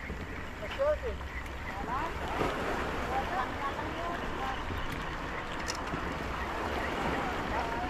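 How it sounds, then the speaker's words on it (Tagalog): A fishing boat's engine runs at sea on a tuna fishing trip, a continuous low drone mixed with wind buffeting the microphone and the wash of waves, while people talk nearby. "nakabukas ang makina niya eh"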